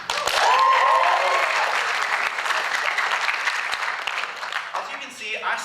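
Audience applause with cheering at a university comedy show, loud and dense from the start, holding steady for several seconds before thinning toward the end.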